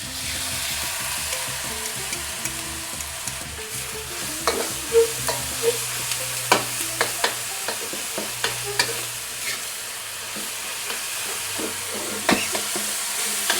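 Sauce for holy basil beef fried rice stir-frying in a hot pan, a steady soft sizzle broken by repeated sharp scraping and clacking strokes of a spatula, close and moderately loud with no talking.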